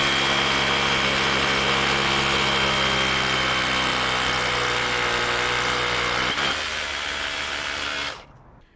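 A DeWalt Elite Series SDS Plus 3/16-inch bit drills steadily with a loud, close, continuous whine and rumble. The sound cuts off abruptly near the end, and no one speaks.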